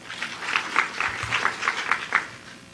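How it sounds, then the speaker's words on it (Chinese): Audience applause welcoming a speaker to a conference session at PyCon Taiwan 2019: a steady patter of many hands clapping in a hall, fairly close and moderately loud, lasting throughout with no talk over it. "让我们掌声欢迎他"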